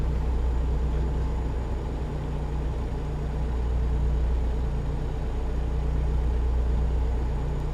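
A Freightliner Cascadia truck driving in American Truck Simulator, its engine humming low and steady with a constant rumbling drone and no pauses.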